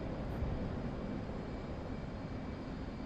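F/A-18 fighter jet in DCS flight simulator taking off with full afterburners: a steady, dense roar of jet engine thrust, continuous and moderately loud with no talk.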